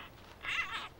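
A tiny newborn panda cub, about the size of a kitten, gives a single short squealing call, high and wavering, close and fairly loud, with no talking.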